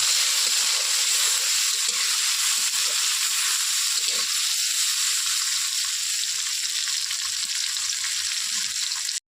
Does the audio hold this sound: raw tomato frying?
yes